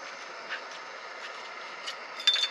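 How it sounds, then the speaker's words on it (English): A Jetboil camping stove burner roars with a steady, hissing rush in a damp pine forest, close and continuous, with a few light clanks near the end. "it does happen to be like a jet boil, so it sounds like a jet"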